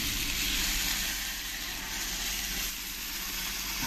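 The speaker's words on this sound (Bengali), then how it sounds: "এবার এর মধ্যে দিয়ে দেবো অনেক জল" Ridge gourd and bori cooking in a pan as a good amount of water goes in, a loud, steady, close hiss and sizzle that runs without a break.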